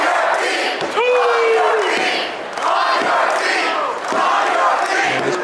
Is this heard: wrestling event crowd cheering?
yes